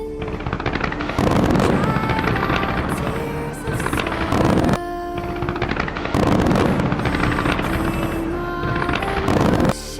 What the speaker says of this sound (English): This fireworks explosion is called the eruption of Mount Merapi, because the explosion soared into the sky.